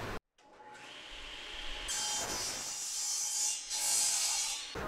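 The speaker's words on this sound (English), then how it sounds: "I'm going to take the table saw and I'm actually going to cut out for the top and bottom of the candlelight holders" A table saw cuts wood for candle holder tops and bottoms, giving a close, rough, hissing cut that grows louder and brighter as the blade bites into the board, with no speech.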